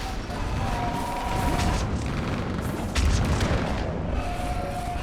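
Fire support gunfire and explosions in Mass Effect 3, a dense continuous barrage of booms and rattling shots with a heavier blast near the middle.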